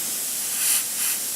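Airbrush spraying water from its cup during cleaning between colors, a steady close hiss that swells briefly twice.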